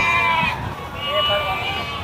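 A sheep bleats in a wavering call over a busy background at the Gudur weekly livestock market, with people talking nearby.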